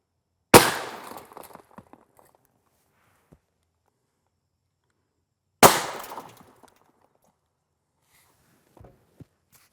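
Two loud 7.62 NATO M80A1 rifle shots fire from a 16-inch barrel about five seconds apart, each a sharp crack with a brief decaying echo, followed by faint handling clicks.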